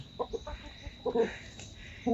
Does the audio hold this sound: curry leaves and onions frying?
no